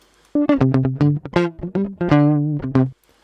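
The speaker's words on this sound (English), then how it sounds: "That's my Fender Telecaster into an Avalon 737, and it's the neck pickup." A clean Fender Telecaster on the neck pickup through an Avalon 737 plays a short riff of plucked notes in quick succession, warm and round in tone, then stops.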